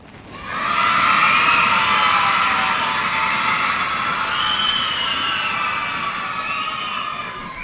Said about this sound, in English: if you can stamp your feet and clap your hands